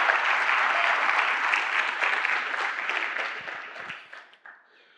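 Church congregation applauding during a sermon, a dense sustained round of clapping that stays loud for several seconds and then tapers off near the end.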